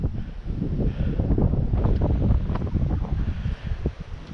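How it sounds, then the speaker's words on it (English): Wind gusting across a mountain meadow, a fairly loud, unsteady rushing buffet that swells and eases over a few seconds with no voices. "You should be able to hear the wind."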